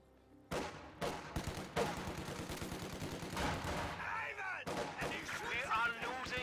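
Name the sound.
gunfire as grenadiers engage flamethrowers, from a video game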